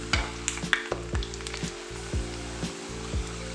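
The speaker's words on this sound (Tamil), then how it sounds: "இப்போ இது நல்லா ஃப்ரை ஆகியாச்சு." Cauliflower florets for Gobi Manchurian fry in hot oil with a steady, gentle sizzle and bubbling, broken by a few sharp knocks and clatters of a utensil against the pan. No one speaks.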